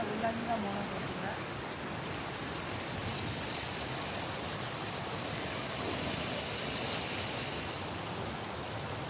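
Water pouring over a partly opened sluice in a village canal, a steady broadband rush that stays even and continuous throughout, moderately distant and fairly soft.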